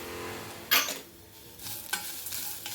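Grated coconut sautéing in a pan for a greens chutney, a soft sizzle with a sharp scrape of stirring near the start and a few lighter spoon clinks later, close and quiet, no talking.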